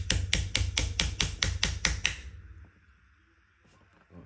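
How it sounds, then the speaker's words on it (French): A hammer strikes a metal ring onto wood in about nine quick, evenly spaced sharp taps over two seconds, then stops, leaving only faint background noise. "on tape dessus avec le marteau"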